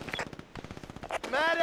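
A deployed medium turret in the shooter game Brink fires a quick rapid burst of machine-gun shots, close and sharp, ending in a brighter tonal sound as a voice cuts in.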